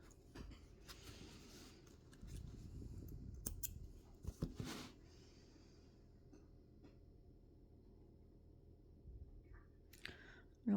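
Scissors snipping cross-stitch thread on a fabric canvas, a few quiet clicks and cuts around the middle of the clip, faint and close, with soft handling noise and no talk.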